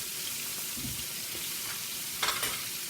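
Catfish fillets frying in hot oil give a steady close sizzle throughout, with a brief louder crackling burst near the end as a piece is turned or moved.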